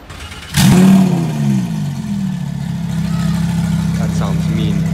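Twin-turbo Lamborghini Huracan with a custom exhaust revs sharply once nearby, then drops back to a steady rumbling idle, with faint voices around it.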